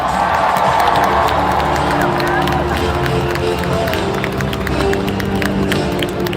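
A large rodeo crowd at the Calgary Stampede chuckwagon races cheers and roars continuously, loud and sustained, with scattered claps and whistles throughout.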